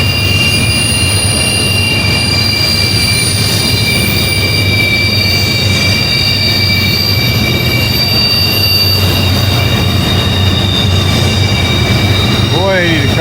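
Long freight train rounding Horseshoe Curve, wheels squealing in sustained high-pitched tones over a loud continuous rumble of railcars, with a voice briefly heard.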